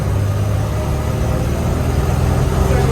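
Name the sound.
1980 Toyota Land Cruiser engine during test drive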